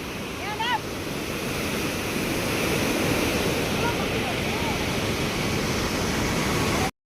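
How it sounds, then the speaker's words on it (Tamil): Heavy water rushing through a dam's shutters, a loud, continuous roar of churning flow with wind noise and brief faint voices over it. "தண்ணி பயங்கரமா போயிட்டு இருக்கு"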